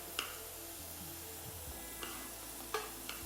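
Faint, low sizzle of vegetables frying in a pan for mixed fried rice, with a few light clicks of a utensil against the pan.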